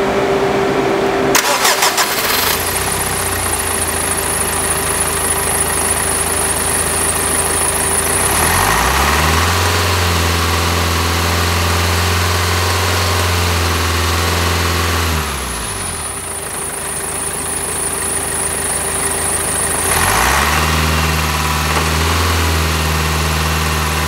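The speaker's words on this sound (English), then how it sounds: "I'm gonna start the vehicle, raise the RPM to 2500" A car engine starts with a short crank and is held at a steady raised RPM near 2500 for several seconds, drops back briefly, then rises again, loud and close with no talking.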